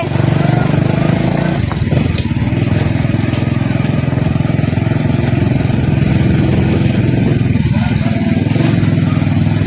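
A motorcycle engine drones loudly and steadily at close range, idling with a constant buzzing hum, and faint voices sound beneath it.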